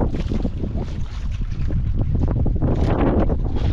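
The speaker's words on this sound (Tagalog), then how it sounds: "Bangka yung umikot." A small outrigger boat engine rumbles steadily on calm water as the boat circles, amid constant wind noise and lapping waves, with no voices present.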